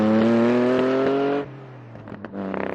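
An Alfa Romeo Busso 3.2 litre V6 in a Lancia Stratos homage revs hard with a loud, harmonic engine note, then drops off abruptly to a lumpy idle with a few short blips.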